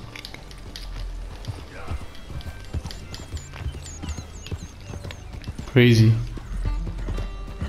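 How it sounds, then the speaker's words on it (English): Horse hooves clip-clop steadily at a walking pace in the video game Red Dead Redemption 2, with a brief loud whinny-like burst near the end and someone talking over it. "Now I have my horse."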